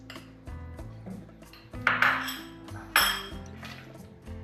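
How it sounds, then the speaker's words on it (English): A pot of milk with vinegar being stirred while curds separate for homemade cream cheese, heard as metallic clinks and scrapes of a spoon against the pot with a faint ringing tone. "You can add the rest of the vinegar or lemon juice and keep stirring it."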